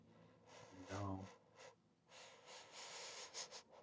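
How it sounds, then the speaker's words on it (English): Sniffing heard over a phone line in an indie horror game about a security guard, a string of breathy snorts and sniffs in short bursts, fairly close and muffled, with no clear talk over it. "Are you sniffing me?"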